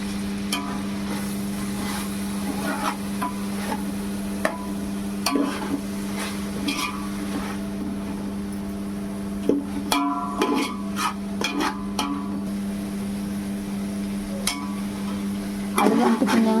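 A spoon stirs coriander and mint into frying pulao in a pan, steady sizzle under a constant low hum, with irregular scraping and clattering strokes that grow louder near the end.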